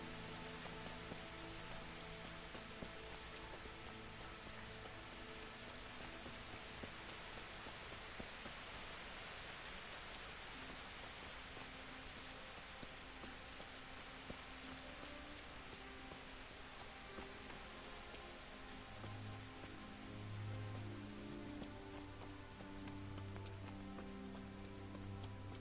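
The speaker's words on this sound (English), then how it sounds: "Looks like it's going to be a rainy day for us again." Steady rain falls in the medieval world of Kingdom Come: Deliverance, a dense, even hiss that runs unbroken for the whole stretch, with a low tonal drone rising faintly toward the end.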